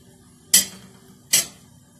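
A utensil knocks twice against a pot, sharp metallic clinks about a second apart, close and clear, while lupini beans are stirred with food coloring.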